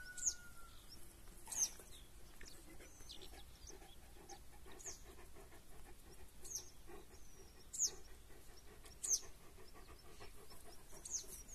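Small birds chirp and tweet intermittently in the distance over a soft outdoor background in a meadow, with a rhythmic close breathing sound from a dog.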